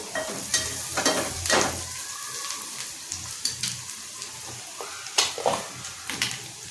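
Spices such as turmeric, garam masala and red chilli being stirred into a frying egg curry: steady oil sizzle with scraping spoon strokes and a few sharp clinks against the pan, fairly close.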